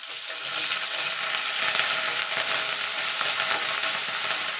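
Ginger paste sizzling and frying in hot oil over tempered spices with green chilli, a steady dense crackle with faint stirring, close and continuous throughout.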